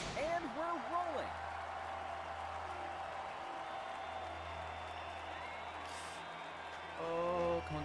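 A video game crowd applauds, a steady wash of clapping that runs for several seconds beneath game music and people talking.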